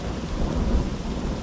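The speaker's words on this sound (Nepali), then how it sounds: "चट्याङ पनि पर्दैछ" Thunder during a heavy rainstorm in a forest, a deep continuous rumble rolling under dense, loud rain, with no voices heard.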